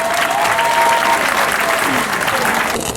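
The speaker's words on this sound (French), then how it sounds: "je souhaiterais quand même que vous applaudissiez pour cet effort du distingué camarade" Loud, dense applause from a crowd at an outdoor political campaign rally in Owendo, Gabon, sustained throughout with faint voices and a brief whistle-like tone mixed into the clapping.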